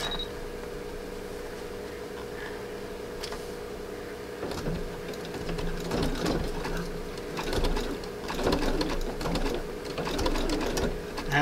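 A sewing machine runs a few short stitches through fabric-covered rope, a steady mechanical hum with bursts of clattering needle action growing busier toward the end, close and moderately loud with no talking.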